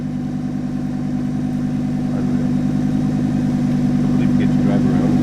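A Lamborghini engine running at a steady low growl that slowly builds in loudness, with a strong droning hum and faint voices underneath.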